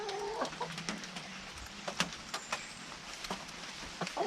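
Backyard hens clucking in short, scattered calls, several birds close by with sharp bursts and softer murmurs over a quiet outdoor background.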